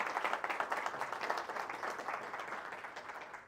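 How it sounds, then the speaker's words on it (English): A curling club's annual meeting audience gives a round of applause, steady dense clapping from a room of people that holds throughout and fades slightly at the end. "I want to give the 3 of them a huge round of applause"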